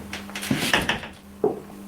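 An interior door creaks or clunks open during a ghost-hunting investigation, with a few soft wooden knocks and a sharper thump near the end, fairly quiet over a low steady hum.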